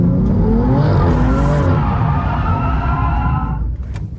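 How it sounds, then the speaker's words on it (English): A drifting car spins out under heavy wheelspin, its tires squealing loudly with wavering pitch over a roaring engine, fading slightly toward the end. "You're going to spin out because your tires are spinning too fast."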